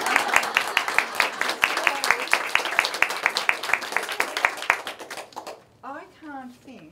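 A small group claps at the unveiling of a quilt marking twenty years of women's ordination, quick, even hand claps for about five seconds before they stop and a voice speaks.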